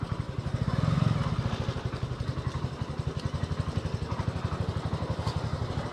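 A motorcycle engine runs near the Maharana Sanga memorial, a steady, rapid chugging pulse that stays close and fairly loud throughout, swelling briefly near the start before settling into an even idle-like beat.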